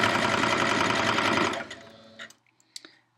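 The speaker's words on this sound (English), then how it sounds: "Give it a little tug through as it's coming through the presser foot, just to encourage longer stitches and keep everything flat." A sewing machine stitches a chiffon hem under the presser foot, a fast steady mechanical whir that stops after about a second and a half, followed by a few faint clicks and taps.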